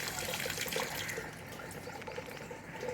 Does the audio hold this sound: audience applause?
no